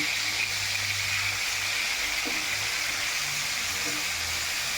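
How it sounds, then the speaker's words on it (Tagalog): Thin-sliced pork shoulder fries quickly in a hot pan for kare-kare, giving a steady, close sizzling hiss that holds evenly throughout, with faint low background hum underneath. "Ayan, piprito ko po siya ng mabilisang prito lang."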